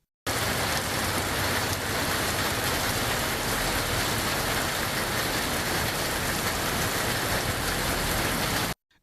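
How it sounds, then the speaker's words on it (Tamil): Heavy rain pouring down in the hills around Kodaikanal, a dense, steady hiss and roar that stays constant and loud for about eight seconds, then cuts off, with no voices. "கொடைக்கானலில் செண்பகனூர் பெருமாள் மலை, மூஞ்சிக்கல் ஏரி சாலை உள்ளிட்ட பல்வேறு பகுதிகளில் கனமழை கொட்டி தீர்த்தது."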